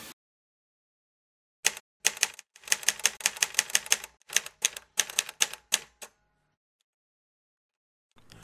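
An old mechanical typewriter typing, bursts of sharp crisp key strikes in quick irregular runs after a short silence, close and alone before stopping.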